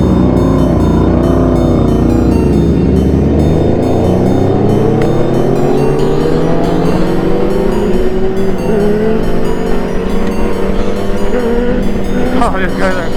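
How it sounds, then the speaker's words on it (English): A Suzuki GSXR1000 fitted with an SC Project exhaust, ridden on the road with a group, gives a loud, continuous engine roar that climbs in pitch through the gears under steady wind rush. "We are riding in the GSXR1000 with this little mob over here."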